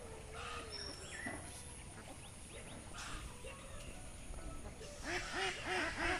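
Domestic ducks in a backyard farming enclosure quack in a quick run of short calls near the end, over steady outdoor background noise and faint scattered bird sounds.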